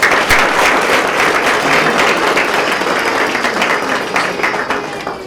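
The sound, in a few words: audience applause at swearing-in ceremony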